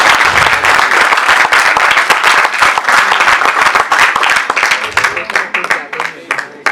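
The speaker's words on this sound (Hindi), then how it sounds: "इन लोगों के लिए फिर से एक बार जोरदार ताली।" Sustained audience applause after a Sanskrit stage play, Bhasa's Urubhangam, dense clapping from a large crowd filling the room, then thinning into scattered claps near the end.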